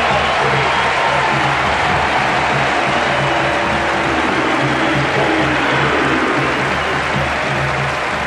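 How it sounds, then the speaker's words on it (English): A packed college football stadium crowd in Columbia, Missouri cheers and applauds the Missouri Tigers at halftime against fifth-ranked Texas A&M in 1992, a loud, steady roar of massed voices and clapping sustained throughout. "this crowd here in Columbia is appreciative of the Tigers' effort"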